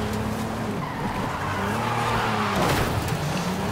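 A racing car in Forza Horizon 5 skids with a sustained, loud tire squeal over a roaring engine, the screech swelling slightly toward the end.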